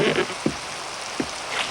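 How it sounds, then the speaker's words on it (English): Steady rain falling outdoors by a river, a broad even hiss with a few brief wetter splashes, fairly near and heard alone. "I don't mind a bit of rain."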